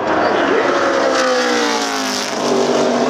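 Kyle Busch's Camping World Truck Series race truck laps Phoenix in November 2008, its engine roaring loudly and steadily at high revs with a rising and falling pitch as it runs through the turns, crowd and track noise underneath.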